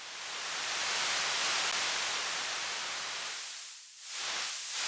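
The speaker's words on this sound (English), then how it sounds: "Let's go ahead and grab one of these noise samples" Broadband white noise sample from a noise oscillator in the Serum synthesizer, a steady loud hiss that dips briefly twice near the end as if filtered, with no voices.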